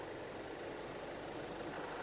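A 2016–17 Isuzu MU-X with a 1.9 Blue Power DDI diesel engine idles in a steady, even hum with a light mechanical clatter, heard close and continuous with no talk.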